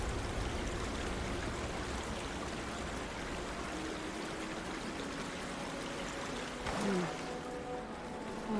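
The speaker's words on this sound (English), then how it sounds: "water is pouring out of that busted pipe." Water gushes from a busted pipe in the Horizon Forbidden West ruins, a steady, dense rushing that keeps up throughout with a brief swell near the end.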